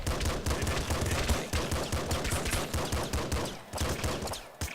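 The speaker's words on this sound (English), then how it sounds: "At least I can use the shotgun against big bandits." Shotgun blasts against bandits in the video game Nuclear Throne, a dense rapid string of loud punchy retro gunfire bursts firing almost continuously, with no talk over it.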